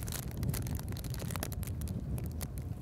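Strong wind buffets the microphone outdoors on a badlands hunting trip, a steady loud low rumble with gusty bursts running through the whole stretch.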